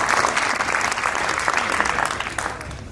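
An audience applauds the candidates after a debate, a loud, close burst of clapping that stays steady and fades slightly at the end.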